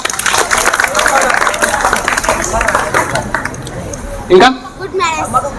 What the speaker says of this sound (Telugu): వెరీ గుడ్, క్లాప్స్ కొట్టండి.